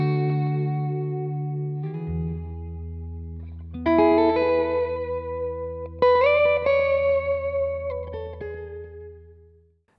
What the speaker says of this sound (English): you can get this multi-tap kind of delay, drench the guitar in echo